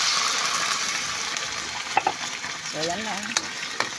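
Sardines fry in a pan with sautéed garlic and onion, giving a steady, close sizzle with occasional stirring clatters, while a voice speaks briefly.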